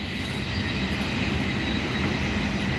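The Arctic train between Norway and Sweden rolls along the track with a steady, dense rumble and hiss, constant and even throughout with no pauses.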